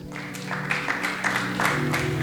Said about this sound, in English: Clap hands for media.